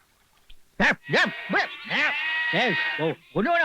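Goats bleating loudly and close by in a village farmyard, a run of about eight harmonic, wavering calls in quick succession over a brief stretch of voices.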